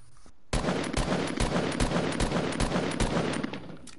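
Rapid bursts of gunfire from the Fortnite video game ring out loud and dense for several seconds, with repeated sharp shots packed closely together after a brief quiet start.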